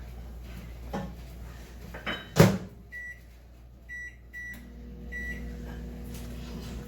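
A microwave oven warms a doughnut batter mixture made with melted butter, a low steady hum running throughout, with a sharp clunk of the door or handle near the start and soft beeps toward the end.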